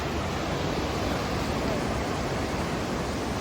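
A river rushes at Badrinath, a broad, continuous roar of churning water that stays loud and even from start to finish.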